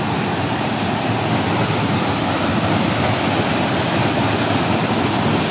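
A strong river current rushes steadily with dense, continuous broadband roar, loud and close throughout, with no voices.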